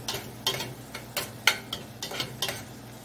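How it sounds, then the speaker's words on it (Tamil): A spoon stirs onions, chillies and curry leaves in a frying pan, giving soft scrapes and taps roughly twice a second over a faint sizzle, close by and quiet, with no talking. "இது எல்லாத்தையும் நல்லா மிக்ஸ் பண்ணிக்கலாங்க."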